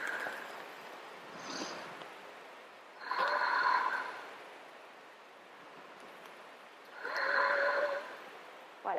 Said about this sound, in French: Encore 5 respirations ici.